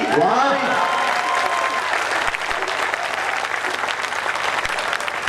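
An audience at a Hindi kavi sammelan poetry recital bursts into thunderous applause, a loud, dense roll of clapping that sustains throughout, with a voice briefly heard at the start.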